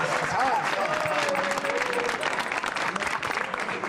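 Audience applause in a studio for a stand-up comedy sketch, steady and dense across the whole stretch, with a voice briefly audible over the clapping.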